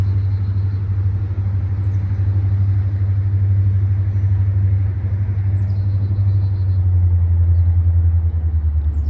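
Heavy freight train locomotives roll past with the throttle notching down, a deep, loud, steady diesel rumble close by that holds throughout, with no talk.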